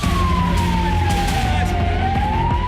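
An ambulance siren wails steadily over loud, rumbling street noise near a hospital after an explosion, its pitch slowly falling and then rising again.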